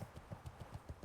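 Horse hooves clip-clopping in a steady trotting rhythm while riding in a video game, quiet and fairly close, with no one talking over them.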